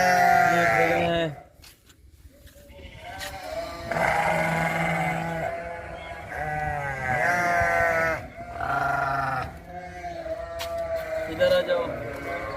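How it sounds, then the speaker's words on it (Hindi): Several sheep bleat in a farm animal pen among mixed livestock, with repeated wavering calls close by and loud, separated by short pauses. "ये भेड़ें हैं।"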